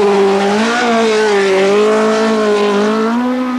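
A race car climbs the Shelsley Walsh hill in 1985, its loud, close engine note rising and falling through gear changes across a continuous run.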